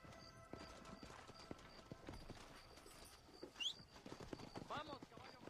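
Horse hooves clip-clop at a steady walking rhythm in the video game Red Dead Redemption, faint and close, with a brief bird-like chirp and quiet voices mixed in.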